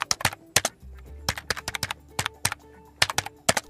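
Text being typed into the K Note app on a keyboard: bursts of crisp, close key clicks in uneven runs, with a low background hum beneath them and no talking.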